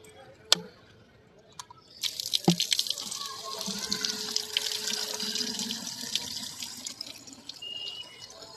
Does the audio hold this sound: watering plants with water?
yes